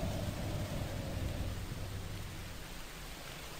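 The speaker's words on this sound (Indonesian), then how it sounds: "Wah, sepertinya bakal lama hujan ini." Heavy, persistent rain, heard as a steady broadband hiss with a low rumble underneath, constant and fairly distant throughout.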